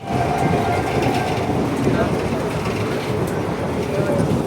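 A moving passenger train gives a loud, steady rumble and rattle that runs unbroken through the whole stretch, with faint voices underneath.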